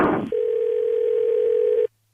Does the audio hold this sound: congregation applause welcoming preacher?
no